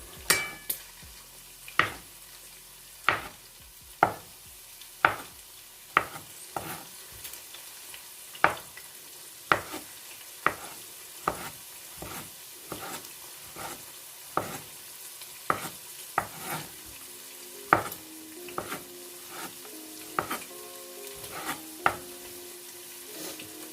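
Okra frying in a pan for a chicken bhindi dish, with a soft steady sizzle broken by regular sharp scrapes and taps of a spatula stirring against the pan, close and fairly loud, with no voices.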